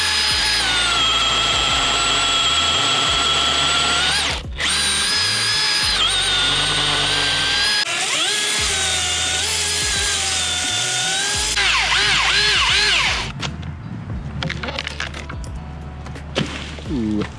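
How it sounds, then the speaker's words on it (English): Battery-powered chainsaw running on two 12-volt batteries during decayed tree removal, loud, close high-pitched whine revving in several bursts with brief pauses, then cutting off and leaving quieter background sound near the end. "This saw's supposed to make like, I think they said somewhere north of 6 horsepower with these batteries on it."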